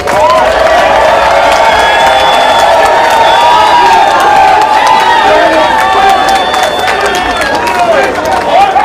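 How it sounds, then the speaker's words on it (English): A large crowd at a Ugandan diaspora political rally roars with sustained cheering, whoops and applause, with shrill shouts and whistles rising over a dense, continuous wall of voices that stays loud and close throughout. "Can I get a round of applause for Kabuye Boston, please?"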